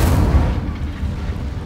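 A fire spell bursts in the video game Hogwarts Legacy as a loud, booming whoosh of flame that fades quickly.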